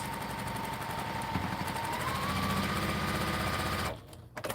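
A serger sewing machine stitching quilt pieces runs in a loud, steady mechanical whir with rapid rhythmic needle chatter, then cuts off abruptly near the end.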